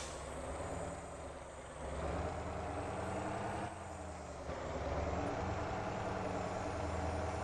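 Heavy truck engine in the Motor Town driving game, a steady loud rumbling drone that holds throughout, rising slightly in load partway through, with no talk.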